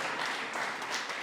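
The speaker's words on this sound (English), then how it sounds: "Clap for me." At a panel session, an audience claps briefly for a panelist, a fairly faint, short patter of applause from a modest crowd with no talking over it.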